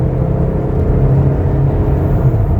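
A 2016 Toyota Tacoma Double Cab pickup engine running in sport mode with a steady, loud low rumble and whir from inside the cab, holding an even drone without clear rev changes.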